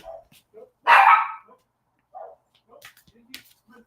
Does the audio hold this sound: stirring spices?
no